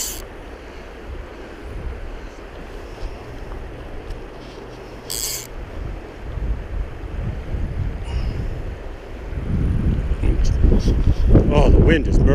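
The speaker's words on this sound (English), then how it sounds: "Oh, the wind is murder" Strong wind buffets along the Gibbon River in Yellowstone, a continuous rushing roar that swells louder toward the end, with brief sharper gusts and water noise beneath.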